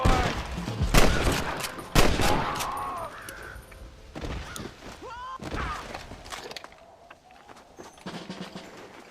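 Gunfight in Red Dead Redemption, several loud close gunshots and impacts cracking out irregularly, with shouting and brief voices between blasts and a quieter stretch toward the end.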